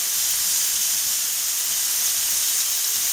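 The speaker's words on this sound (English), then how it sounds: "We're going to sear these little fellers for a couple of minutes" Beef tips sear in hot oil in a pan, giving a steady, close, loud hiss that holds unbroken throughout with no voices over it.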